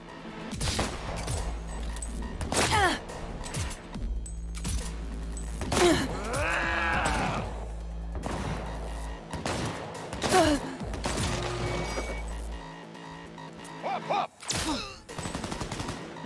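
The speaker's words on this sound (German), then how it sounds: "Schüsse gehört." Gunfire in the video game Cyberpunk 2077, with bursts of rapid shots and sharp single cracks scattered across the scene alongside groans and other game noises, fairly loud and close.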